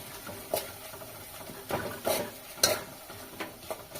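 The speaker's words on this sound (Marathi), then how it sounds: "आणि अद्रक लसणाची पेस्ट टाकते थोडीशी अंदाजाने टाकते मी आणि आता ती चांगली परतून घेते" Ginger-garlic paste is stirred in a pan on a low flame. A soft sizzle runs throughout, and a spoon scrapes and taps against the pan in a few brief bursts. The sound is quiet and close, with no voices.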